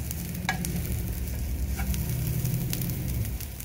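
Onions, garlic and ginger pieces frying in a pan for a Mysore masala dosa filling, giving a steady close sizzle with occasional spatula scrapes and stirs throughout.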